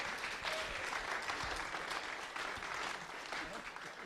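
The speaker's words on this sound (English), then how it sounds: "So an applause for Artem, Toine, Paul, Carlo." Steady audience applause following a demonstration at an urban screen art event, a dense, even wash of clapping that carries on for several seconds with a slight fade toward the end.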